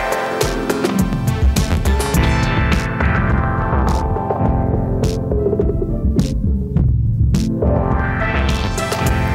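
Electronic dance mix run through the filter of a Roland MX-1 performance mixer, thick throbbing bass and beat with the tone sweeping closed and open, loud and continuous with no talking.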